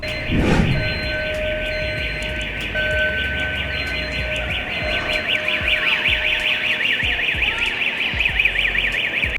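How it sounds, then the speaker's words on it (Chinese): An electronic fire alarm rings inside a Toronto railway station, a continuous high warbling tone that pulses faster later on, sounding over a hall's background rumble, with a brief knock near the start. "它的火警终于结束了"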